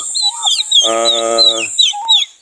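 Farm turkeys, recovering from fowlpox, give close, loud clucks and chirping yelps, with one longer rough call in the middle, several birds overlapping.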